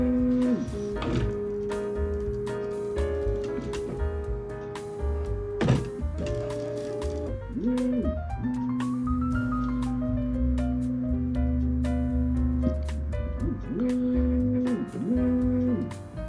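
Stepper motors whine in sustained steady tones with rising pitch sweeps and clunks, a Bambu Lab A1 3D printer moving its axes through a homing sequence, close and continuous.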